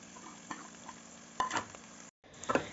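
Boiled chickpeas and potatoes are stirred in a pan over a soft background sizzle, with a few close scrapes and knocks of the spoon, one short silent break, and no talking.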